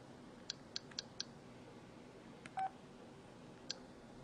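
Phone dialer keypad beeps sound as four quick short tones, then a longer tone after a pause, and a final single beep, faint and clean over quiet background with no talking.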